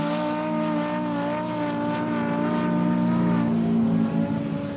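The engine of an Ultra 4 off-road race car runs nearby, a loud steady droning tone with strong harmonics that holds at a constant pitch, then rises slightly and wavers near the end, with no talking.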